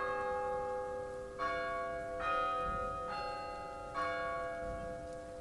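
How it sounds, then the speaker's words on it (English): A grandfather clock chimes four times in a slow, even rhythm, each bright metallic stroke ringing out and overlapping the last, over a low background rumble. "the grandfather clocks strike their 12 loud bells"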